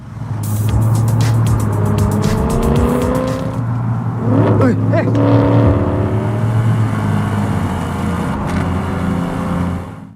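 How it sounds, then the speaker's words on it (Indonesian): A Nissan 350Z sports car drives in a film scene. Its engine hum is loud and continuous with a rising whine in the middle, heard under a music and sound-effect mix for the whole clip. "Aida yang ingin balas dendam langsung mengajak Rudy untuk jalan-jalan dengan Nissan 350Z-nya."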